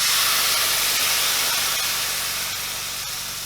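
White wine poured onto toasting barley for a vegan barley risotto with mushrooms sizzles in the pan, giving a loud, steady hiss that fades slowly across the whole stretch, with no talk over it.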